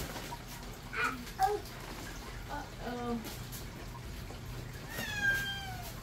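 Cat meowing several times at moderate distance, short rising and falling cries spaced through a busy indoor room with background noise, ending in a longer drawn-out meow.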